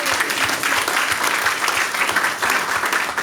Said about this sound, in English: Let's give a round of applause for Dr. Jennifer Collins, please.